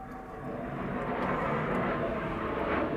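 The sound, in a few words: jet aircraft flying over a house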